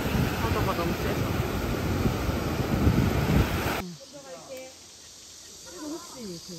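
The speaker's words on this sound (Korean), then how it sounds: "바람이 너무 세가지고 코가 쬐서 아예 입고 원래 쪽에서 놀아야 되는데 코를 막아놨어요. 파도가 너무 쬐서." Strong wind and rough sea waves on the Jeju coast in summer make a loud, steady broadband roar for about four seconds, then drop off abruptly to a quieter background with faint voices.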